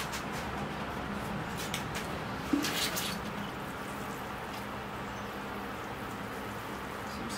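Water is poured over a newly planted bonsai penjing, making a soft, steady trickle and patter into the soil. A brief quiet voice is heard partway through.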